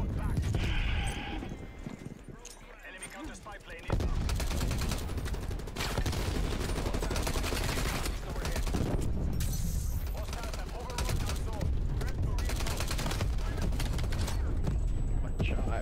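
Rapid bursts of M16 rifle fire in a Call of Duty match, dense rattling volleys and scattered shots layered with game effects, loud and near, with a player talking over much of the action.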